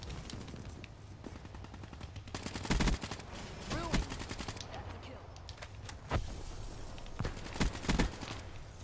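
Gunfire in a shooting video game rattles in rapid bursts and single shots at full volume, with game sounds and a voice mixed in over a busy background.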